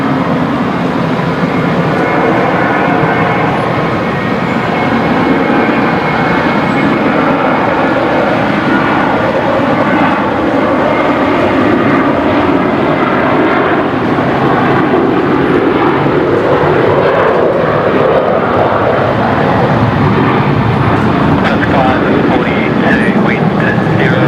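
An airliner on the Velocity service to Perth at Brisbane Airport gives a loud, continuous engine roar that swells and shifts over about twenty-four seconds, with faint voice traces underneath.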